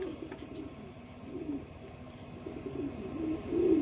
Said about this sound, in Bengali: এই এক জোড়া লক্ষা কবুতর আছে